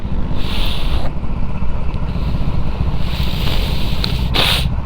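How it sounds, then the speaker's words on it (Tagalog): Heavy wind roars steadily over a GoPro Hero 10 microphone on a motorcycle ride in Infanta, Quezon Province, a loud continuous low rumble with brief hissing gusts and no talk. "Tangina, pakalakas ng hangin dito."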